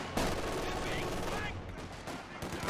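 A light machine gun squad firing in the Company of Heroes 2 video game: dense, continuous bursts of gunfire crackling without pause across the whole moment.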